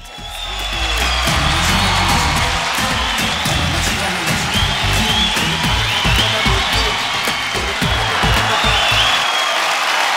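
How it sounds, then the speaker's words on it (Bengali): Loud, sustained audience applause at an awards ceremony, thick clapping mixed with some cheering and a few whoops that carries on at full strength for around ten seconds. "জোরে হাততালি আবার ওর জন্য একবার।"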